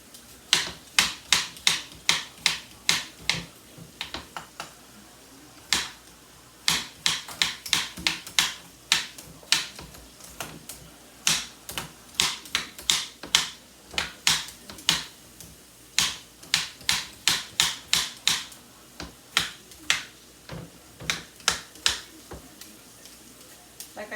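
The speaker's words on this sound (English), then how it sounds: "Let's peel these potatoes." Potatoes being peeled by hand in a home kitchen, a steady run of sharp, close scraping strokes in quick bursts with short pauses between, fairly loud and alone.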